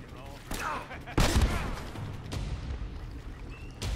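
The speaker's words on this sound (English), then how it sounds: "I can shoot these guys out." Gunfire in the video game Uncharted: Drake's Fortune: a few sharp, loud shot bursts, the strongest near the middle, over a continuous background of game ambience and effects.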